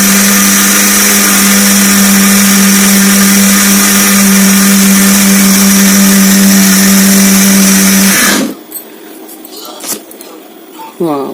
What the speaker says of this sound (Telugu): మిక్సీ అయితే ఇలా పెట్టేసుకుందాం